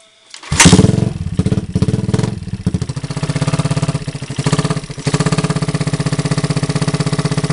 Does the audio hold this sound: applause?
no